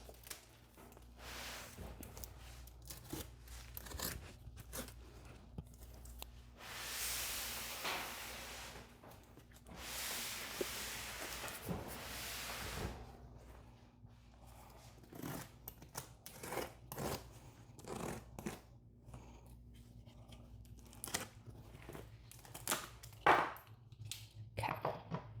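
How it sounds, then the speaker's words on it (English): A cardboard box holding a Maker Cavera Air is cut open around its corners, giving scattered close scrapes, snips and rustles with two longer noisy tearing passes early on, and quiet gaps between. "Probably gonna have to cut the box like I usually do."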